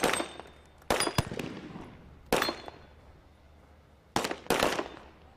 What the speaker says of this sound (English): So for the sniper, the key is getting that first shot away as quickly and as accurately as possible.